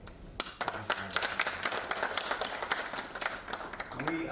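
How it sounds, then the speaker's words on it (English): Audience clapping at a Djibouti international free trade zone event, a dense patter of many hands at moderate, fairly distant level, with faint voices murmuring underneath. "indeed we need to clap"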